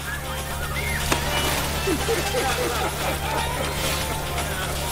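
Steady outdoor ambience of a boat trip in the Caribbean, with a constant low engine hum, broadband wash like wind and water, and faint distant voices and small knocks throughout.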